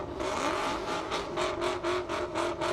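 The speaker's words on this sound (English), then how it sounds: "Mustang doing a little burnout." At an airstrip drag race, a Ford Mustang does a burnout, its engine revving in repeated pulsing surges at moderate distance, with no one talking.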